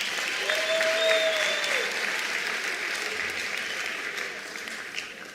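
Audience applause at a ministerial announcement of national exam results, a broad, sustained wash of clapping from a large crowd, steady and fairly loud, with a brief whistle-like tone early on and no speech.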